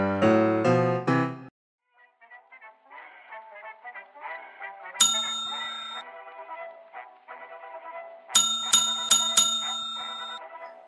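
Repeated bell ringing at a reception desk in a Chicago-set video game, bright metallic dings struck in quick bursts of three or four, separated by softer tinkling game music.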